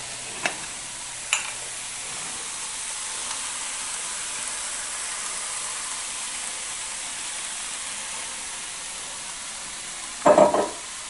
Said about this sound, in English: I usually do the first step just so that that garlic kind of fries up a little bit, and that the turmeric as well